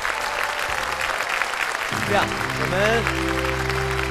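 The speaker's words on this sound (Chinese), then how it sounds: "掌声欢迎你们，欢迎各位" A studio audience at a Chinese TV quiz show applauds to welcome the contestants, clapping steadily before a voice and a musical tone rise over it.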